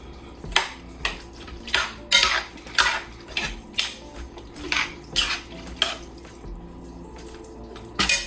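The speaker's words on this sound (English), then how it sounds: "I'm going to use my spoon to sort of move it around a little bit." A metal spoon scrapes and knocks around a pot of cream of celery soup for a turkey pot pie, roughly a dozen rhythmic clanks and stirring strokes close up, with no talking.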